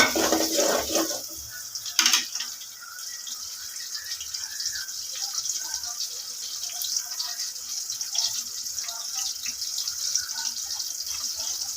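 Sliced onions sizzle in hot oil in a pan for a mutton gosht salan, a steady hissing crackle after an initial splash as they go in, with no talking.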